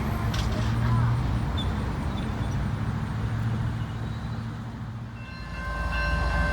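At Cowan, Tennessee, a train rumbles past close by with a heavy low drone and faint higher tones, holding steady throughout.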